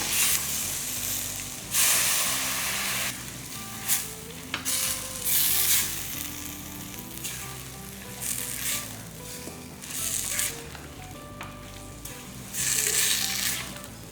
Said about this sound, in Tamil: கொஞ்சமாக தண்ணி ஊற்றி நல்லா வதக்கிக்கோங்க